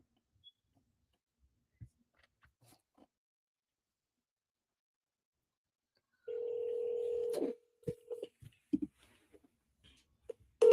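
A telephone call tone sounds as one steady, fairly loud beep lasting about a second, then gives way to scattered clicks and soft handling noises on the line before an automated voice takes over.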